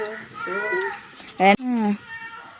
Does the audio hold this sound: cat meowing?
yes